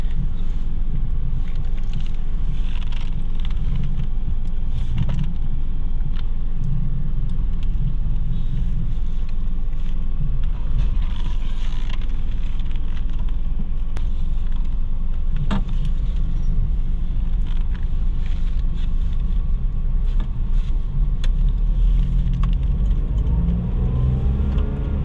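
A Toyota Wigo or Kia Sportage with an engine knocking fault drives on a road test, its engine rumble and road noise steady and close throughout, with some wind.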